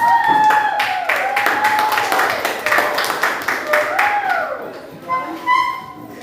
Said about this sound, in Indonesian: Kita beri tepuk tangan untuk kelompok bilangan